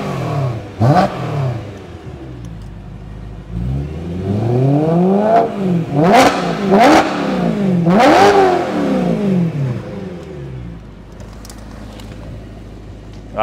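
A naturally aspirated car engine with a custom manifold and aftermarket muffler revs repeatedly, rising and falling in pitch through several loud, close pulls, with a throaty tone and brief lulls between bursts.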